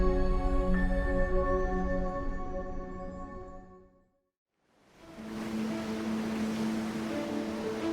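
The 3,000-ton ship Stril Explorer sails east at 6 knots on the Black Sea. After a sudden brief silence, a broad, steady rush of wind and waves rises with a low, constant engine drone beneath it.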